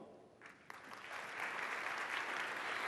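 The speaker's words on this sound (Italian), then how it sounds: "Anche per lei l'applauso del Giovanni da Udine." An award ceremony audience in a theatre gives applause that starts scattered and thin, then swells into steady, dense clapping from a large crowd heard at some distance.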